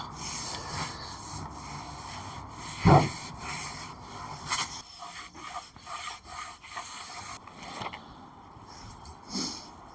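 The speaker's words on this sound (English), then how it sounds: "I've just got my floor wipes and we're gonna give it a good old wipe all over" A wooden Welsh dresser being wiped down with floor wipes, giving soft, close rubbing and scuffing strokes in an uneven rhythm, with one sharper knock partway through.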